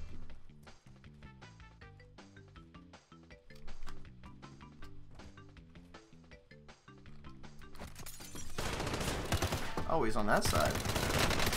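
Fast, evenly spaced shots from a gun in Call of Duty Warzone crackle in a long rapid string, then give way to a louder, denser wash of battle noise, with a player briefly speaking over it.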